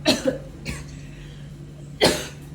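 Three sharp coughs, two close together at the start and a louder one near the end, with a low steady hum underneath.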